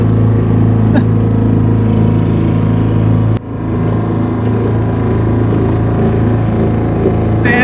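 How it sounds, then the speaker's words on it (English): A small hired motorboat putters across a lake, its outboard engine droning steadily and close, with a brief dip in the engine note partway through. "Instead we've copped for this little motorboat, half an hour for a tenner. So we're having a razz round the lakes."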